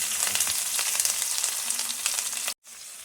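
Chopped onion and curry leaves fry in a hot pan with a continuous, dense sizzle, close and even, broken by a brief sudden silence before resuming more quietly.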